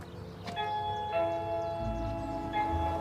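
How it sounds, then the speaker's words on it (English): A doorbell plays a melodic multi-tone chime, several bell notes sounding in sequence and lingering as they decay, with no talking. "Nice doorbell."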